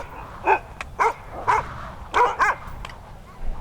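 Sled dogs in a remote snowy spot near Churchill bark in short, sharp bursts, about five or six loud yips spaced irregularly over the short span, with quieter background between.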